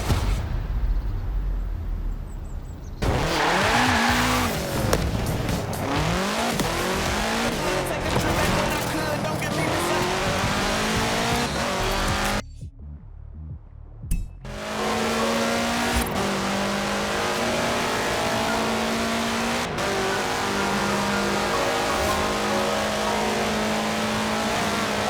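A 1966 Volkswagen Beetle fitted with a 2.5-liter flat-four turbo engine in Forza Horizon 4, its engine revving and surging loudly with rising and falling pitch, a brief cut to near silence midway, then steady high-revving drive.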